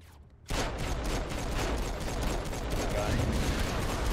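The big gun power in Saints Row IV opens fire after a short quiet moment, a loud, dense and unbroken barrage of rapid gunfire that keeps going steadily to the end.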